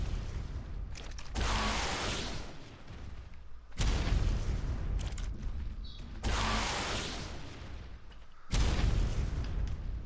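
Rocket launcher blasts in a 2v2 PvP video game: four heavy booming bursts at steady intervals, each a loud broadband explosion roughly two seconds long, with no talk over them.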